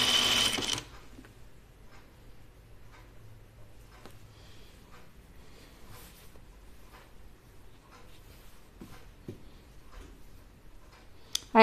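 A home sewing machine stitches the hem of a Kalle shirtdress with a quiet, steady run of soft ticking stitches, opening with a brief louder burst and ending on a sharp knock.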